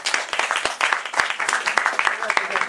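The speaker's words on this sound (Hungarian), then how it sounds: "Tapsoljuk meg őket!" Church congregation clapping at a Saturday worship gathering, brisk, dense applause lasting a few seconds with talk mixed in.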